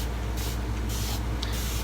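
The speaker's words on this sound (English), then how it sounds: "Oh, I'm spraying you." A spray bottle misting water onto wet hair, four or five short hissing bursts in an uneven rhythm over a steady low fan hum.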